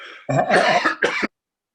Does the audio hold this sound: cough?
yes